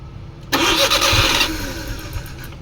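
Suzuki DA52 with an F6A engine, in poor running condition, struggling through a long hard start: a loud burst of cranking lasts about a second before dropping to a rough, uneven idle hum.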